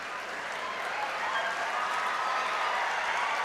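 At a university convocation, a crowd keeps applauding in a continuous, smooth wash of clapping heard from a distance, with individual claps blurred together at an even level.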